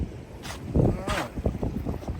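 Gusty wind rising outdoors at a fishing spot in a Fort Lauderdale park, a rushing, buffeting roar with broad bursts that swell and fade, low rumbling microphone wind noise beneath.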